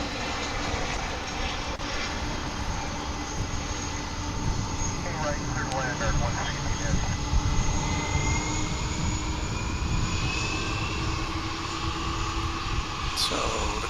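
Jet airliner engines at Dallas/Fort Worth International Airport make a steady, moderately loud roar that holds for the whole stretch, with a faint higher whine over the rumble.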